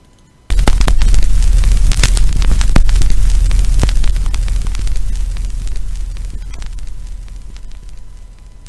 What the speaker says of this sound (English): like some fire-ish sound on the beginning